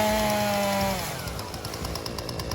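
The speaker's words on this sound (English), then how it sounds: "it gets a little loud here with the chainsaw going" A chainsaw runs during tree removal, a loud, close engine that drops from a high steady whine into a rougher, lower idle-like rumble with a rapid mechanical chatter, with no voices.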